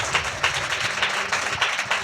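A church congregation claps loudly during a Telugu sermon, a dense run of overlapping hand claps forming steady applause with rhythmic swells, close and continuous for the whole stretch.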